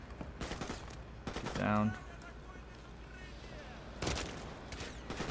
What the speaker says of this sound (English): I don't know where they're even shooting from